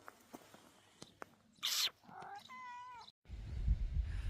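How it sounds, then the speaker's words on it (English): A cat at a campsite meows clearly at close range, a drawn-out wavering call following faint clicks and a short rustle, then low rumbling noise takes over. "And the cat."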